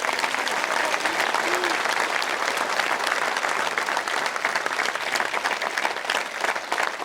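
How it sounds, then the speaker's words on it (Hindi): A crowd at a political gathering bursts into loud, sustained applause for several guests, a dense, unbroken roar of clapping lasting around seven seconds with no letup. "सब जोरदार तालियां बजाएं"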